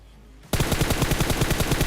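Rapid automatic gunfire bursts out suddenly in a PUBG-style battle royale game, a loud sustained string of rhythmic shots after a quiet start.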